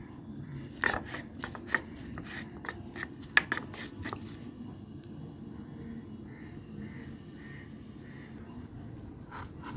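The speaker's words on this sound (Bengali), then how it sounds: "এখন আমি এটাতে শিলবাটাতে বেটে নেব।" Pumpkin seeds, green chillies and salt ground on a shil-bata grinding stone, heard as a few sharp scraping and knocking strokes in the first half, then a softer, quieter rubbing.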